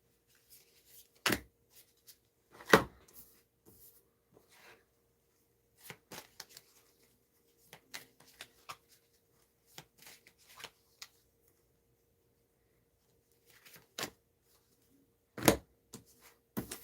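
Tarot cards being shuffled by hand in short, crisp riffling bursts separated by quiet pauses, close and fairly soft, with no talking.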